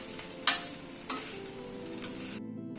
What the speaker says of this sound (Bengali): সবগুলোকে একবার একটু মিশিয়ে দিচ্ছি